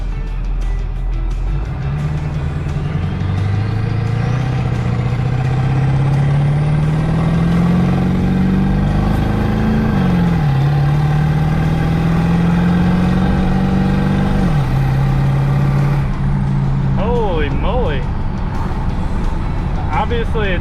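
An OBS Ford 7.3 Powerstroke diesel truck with a hood stack accelerates hard on a road, engine pitch climbing through gear changes with a brief dip between shifts, loud and close, then someone talks near the end.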